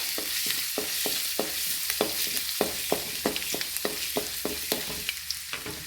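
Ginger sizzles while being sautéed in a frying pan during pasta preparation, with a steady hiss of frying and regular, sharp spatula taps against the pan throughout. The sound is close and continuous, with no talking.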